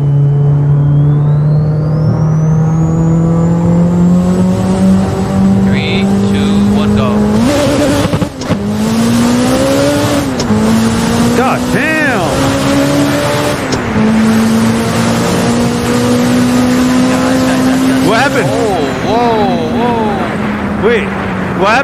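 A boosted AWD Honda Civic roars through a street race against rivals such as a Supra and an R34 GTR, its engine droning loudly and climbing steadily in pitch between gear shifts, with brief faint voices mixed in.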